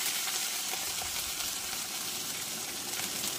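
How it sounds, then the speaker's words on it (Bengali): Ground spice paste frying in mustard oil in a kadai with dried red chilies, bay leaf and panch phoron, giving a steady, dense hiss that runs unbroken and fairly loud throughout, with no talk. "সব মশলা আমি একসঙ্গে ভেজে নেব।"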